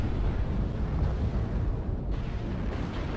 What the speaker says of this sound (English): So you're probably dropping artillery strikes.